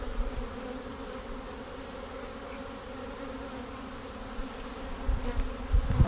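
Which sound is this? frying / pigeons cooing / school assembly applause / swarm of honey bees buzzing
swarm of honey bees buzzing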